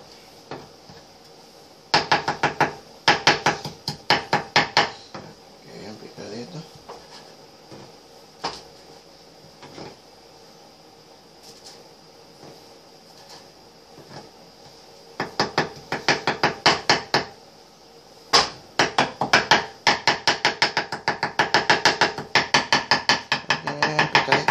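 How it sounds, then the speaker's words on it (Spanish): Bursts of rapid knife chops on a cutting board while ingredients are prepared for tacos, loud close strikes in quick runs separated by pauses and scattered single taps. "Vamos a picar bien."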